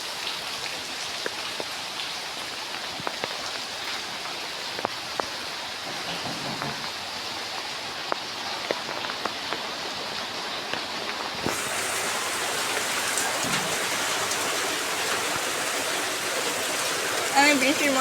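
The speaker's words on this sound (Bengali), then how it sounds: "দেখুন কত জোরে জোরে বৃষ্টি হচ্ছে।" Heavy rain pouring down in a steady, dense hiss with scattered louder drops, growing noticeably heavier partway through.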